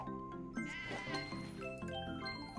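Cartoonish sheep bleats from the puzzle video game Divide by Sheep, several quick overlapping bleats stacked over a bright, jingly game background, close and clear with no talking.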